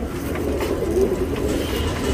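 Pigeons kept in a loft give a low, soft cooing murmur that runs steadily throughout, fairly close, with no talk over it.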